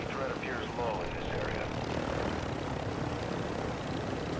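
Helicopter in the video game Call of Duty DMZ, a steady loud rotor and engine roar filling the whole stretch, with a voice speaking faintly over it near the start.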